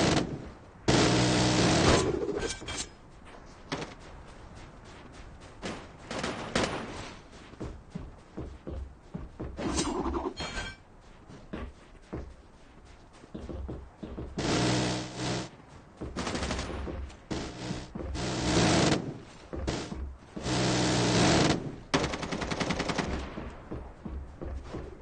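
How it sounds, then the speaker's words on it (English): Rapid bursts of sentry gun fire in a video game, loud sustained volleys separated by short pauses and scattered single shots across the whole stretch. "Hostile sentry gun spotted."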